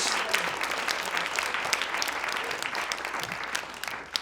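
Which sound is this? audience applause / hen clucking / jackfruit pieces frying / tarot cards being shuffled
audience applause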